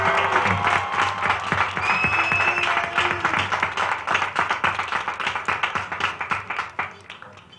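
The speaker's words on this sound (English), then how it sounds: "Let's give her another round of applause." Crowd at a county ceremony honoring a U.S. Olympic champion breaks into sustained applause, loud and dense at first, then thinning into more distinct individual claps as it tapers off.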